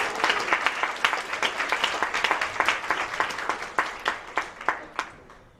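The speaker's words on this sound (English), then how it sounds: "Give yourselves a round of applause." Audience at a women's poetry slam applauding the poets, a moderate, fairly sparse round of individual claps with distinct hand strikes, thinning and fading toward the end.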